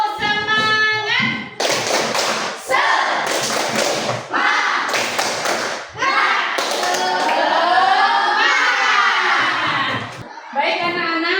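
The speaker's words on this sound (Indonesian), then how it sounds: "ayo tepuk semangat biar kita lebih semangat lagi" A classroom of pupils performs a rhythmic spirit clap, bursts of sharp hand claps in patterned groups alternating with a teacher's voice and children chanting along, loud and close indoors.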